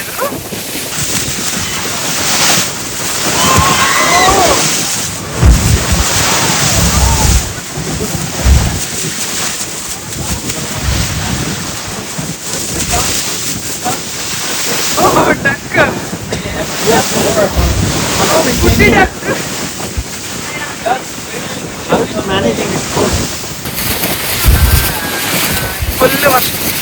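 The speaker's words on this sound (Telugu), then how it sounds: "స్టామ్ వల్ల సీ చాలా వైల్డ్గా ఉంది, అలలు కూడా పెద్ద పెద్దగా వస్తున్నాయి" Large, rough ocean waves in a stormy sea off California slosh and crash around a whale-watching boat, with heavy wind buffeting the microphone and a few voices now and then.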